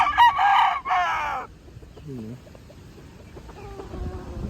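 A rooster crows loudly and close by, one long strained call with harmonic bands that breaks off after about a second and a half. Quieter rustling and faint tones follow.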